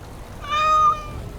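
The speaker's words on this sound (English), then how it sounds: "Oh, look at the cute little kitty" A single clear cat meow in the video game Dragon Age Awakening, a short tonal cry about half a second long over quiet background ambience.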